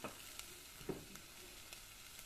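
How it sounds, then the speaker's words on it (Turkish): Meat sautés in cooking oil in a pan, a faint steady sizzle with occasional soft stirring scrapes and pops, close and quiet. "birazcık yemeklik sıvı yağımızdan ekleyerek kavuralım"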